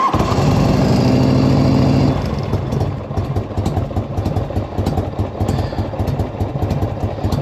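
A 1984 Harley Davidson motorcycle engine, a loud steady running roar for about two seconds that drops into a lumpy, pulsing idle, heard up close with no talk.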